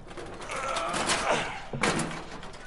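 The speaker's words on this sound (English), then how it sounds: "Open the door, man." A door being opened in a dark place, likely a boat, with two loud slam-like thuds, one near the middle and a sharper one near 1.8 seconds, over rustling and a busy background.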